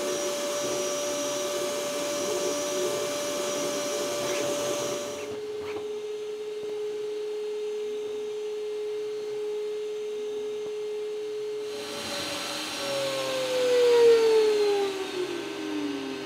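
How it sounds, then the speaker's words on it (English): A 3D printer's cooling fan with no duct fitted blows air in a steady, loud whir with a tonal hum, its pitch shifting and dropping partway through as the fan speed changes. "There's going to be a ton of air being pumped out from the back here."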